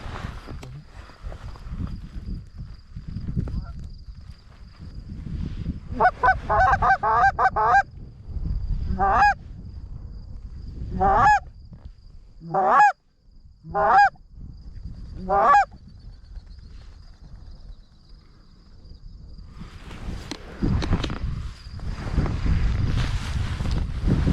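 Geese honk in a burst of several calls, then single spaced honks repeat, heard over steady wind noise outdoors on a North Dakota goose hunt.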